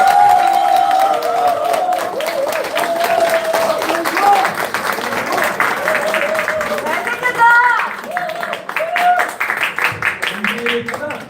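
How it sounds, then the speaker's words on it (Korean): Political rally crowd applauds as a candidate is invited to the podium, clapping and cheering continuously with voices mixed in, fairly loud and close throughout. "큰 박수 부탁드리겠습니다."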